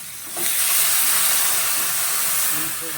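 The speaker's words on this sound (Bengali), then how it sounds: "এখন আমি এবার জল ঢেলে দিলাম" Water hits a hot pan of tilapia fish curry with a sudden loud, steady hiss and sizzle that holds strong for a few seconds before easing slightly.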